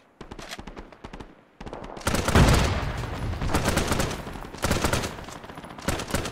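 Sustained gunfire in an Arma 3 firefight: rapid bursts of automatic fire and single shots crackle over heavy rumbling blasts, loud and close, with no one speaking.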